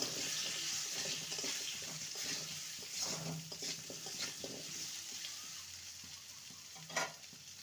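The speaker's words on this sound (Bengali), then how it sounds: "সামান্য হলুদ গুঁড়ো আর সামান্য লবণ আলুটাকে লাল করে ভেজে নেব" Potatoes fry in a pan with a little turmeric and salt, giving a faint, steady sizzle with occasional soft stirring clatter.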